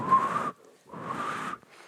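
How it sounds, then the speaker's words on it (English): Two breathy, airy whistle attempts close to the mic, mostly rushing air with only a faint thin tone coming through. "Oh, yeah, I'm learning how to whistle."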